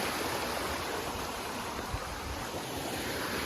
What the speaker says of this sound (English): There's a waterfall, this little nice outcropping.